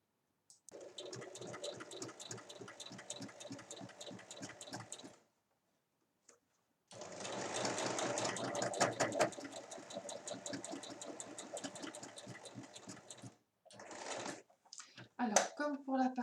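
A sewing machine runs close up, stitching the seam of a tote bag with handles in two long, even bursts of rapid chatter, separated by a pause and followed by brief fabric handling.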